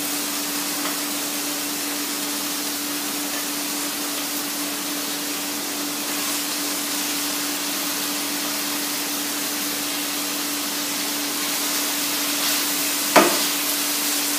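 Chopped chard wilting down in a hot pan, a steady, even sizzling hiss that continues throughout with a steady low hum and one brief clink near the end.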